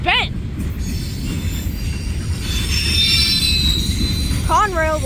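A Conrail freight train hauling bent, damaged cars rolls past close by with a steady heavy rumble, while high wheel squeals rise and waver at the start and end.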